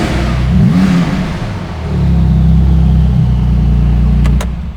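A stock Porsche 911 GT2RS engine revs up with a rising growl, eases back briefly, then holds a loud, deep, sustained drone before cutting off, close and with no talking.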